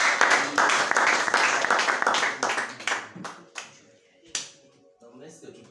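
A church congregation applauds loudly, a dense burst of close clapping that thins into scattered claps and fades, with voices speaking over it.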